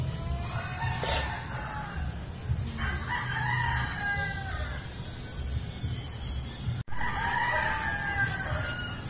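Rooster crows several times, harmonic calls rising and falling over steady low background rumble, with a brief dropout near the end.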